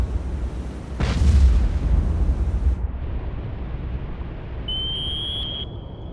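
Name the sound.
explosions in submarine video game Cold Waters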